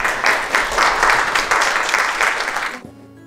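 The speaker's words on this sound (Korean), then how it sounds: "마지막으로 따뜻한 박수 전해주시면 진심으로" Applause fills a Korean press conference for a baseball player's retirement, steady clapping from a crowd that continues for a few seconds before cutting off abruptly.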